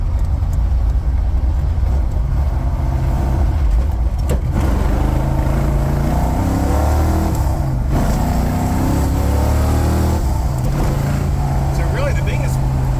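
A 1967 Mustang GT 500 tribute car's V8 accelerating hard in third gear at half throttle in traffic, rear tires breaking loose, a steady loud engine roar heard from inside the cabin with someone talking over it.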